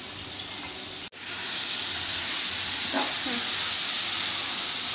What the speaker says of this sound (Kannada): ಇದು ನೋಡಿ ಫ್ರೈ ಆಯ್ತಾ ಇದೆ.